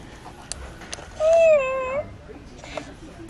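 A pressed Hello Kitty toy purse plays a single electronic meow-like tone that rises and dips over about a second, louder than the surrounding store noise and soft talk.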